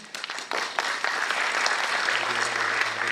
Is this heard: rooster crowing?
no